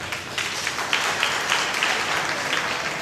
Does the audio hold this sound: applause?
yes